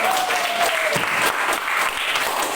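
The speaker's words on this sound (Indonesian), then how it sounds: "Tepuk tangan untuk" A group of students in a classroom gets a burst of applause, dense steady clapping from many hands filling the whole stretch.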